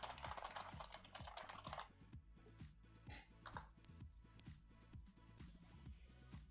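On-screen text in the video game Warframe typing out letter by letter, heard as a fast, steady stream of soft keyboard-like clicks at low volume, continuous throughout.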